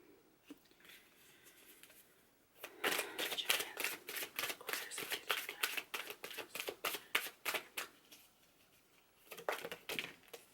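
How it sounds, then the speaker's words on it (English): Tarot cards are handled, shuffled and laid over one another, producing a rapid run of crisp papery flicks and slaps close up, with quieter handling before and after and no talking. "I'm just going to go ahead and layer these first 5 cards with alternate decks"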